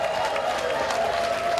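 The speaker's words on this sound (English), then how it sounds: "with a big round of applause, ladies and gentlemen." An audience applauds at a Green Hands agency event, a dense, even wash of clapping held at a steady level throughout, with no break and no voices over it.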